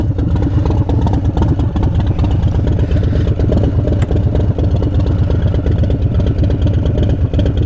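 A Harley-Davidson Breakout motorcycle with a 131 engine runs close by, a loud, steady, lumpy idle with rapid low pulses and mechanical clatter that lasts throughout with no voices.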